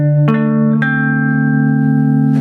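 A few sustained electric guitar notes from a song's riff, with two sharp plucked attacks early on, each ringing out and overlapping in a bright, steady tone.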